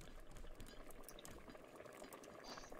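Vegetable soup boils in a pot in the survival video game Raft, a faint, steady bubbling simmer that continues evenly on its own without talk.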